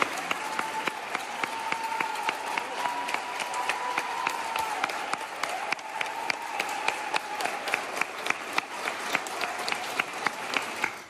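Applause for hospital staff in white coats, a sustained crowd clapping at a steady, even rhythm for the whole stretch, with faint voices mixed in underneath.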